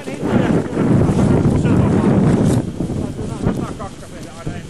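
A tugboat's engine rumbles heavily as it tows a vessel near Karkali. The loud low drone is buffeted by wind on the microphone and eases slightly toward the end.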